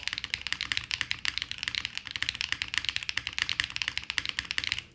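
Rapid typing on a QK75N mechanical keyboard, a dense run of crisp, close clicks and clacks in an uneven but steady rhythm, heard alone with no talking.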